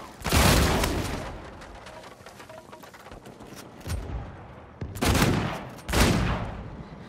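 Booming 12 gauge shotgun blasts from Sullivan's weapon in Uncharted 4, a loud shot near the start and two more heavy blasts near the end, with game action and low background noise between them.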